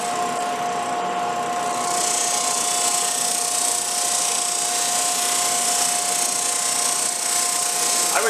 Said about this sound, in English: So it's pretty fine for a sander like this.